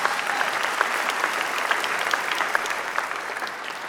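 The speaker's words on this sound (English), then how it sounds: "Let's give her one more round of applause." Audience applause at an awards ceremony in a large hall, sustained dense clapping from a big crowd with a few sharper claps standing out, tapering slightly at the end.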